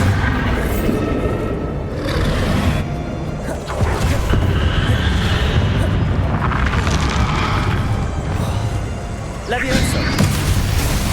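Bombarda spell blasts in the video game Hogwarts Legacy, heavy booming explosions layered over continuous combat noise and spell effects, loud and close, with speech in the mix.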